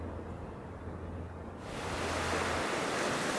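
Ocean surf washes along the Kumano Sea coastline beside a seaside stretch of the Kumano Kodo trail, a steady hissing rush that grows louder and fuller partway through, with a windy edge and no voices.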